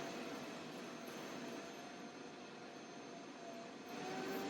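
A Vevor electric pottery wheel motor runs steadily while clay is being centered, a continuous close whirring hum with broadband whoosh that holds nearly constant throughout, no voices.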